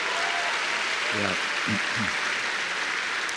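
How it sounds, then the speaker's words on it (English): Loud, steady audience applause at a Star Wars Celebration live stage event continues throughout, with a brief voice calling out over the clapping. "please, a round of applause."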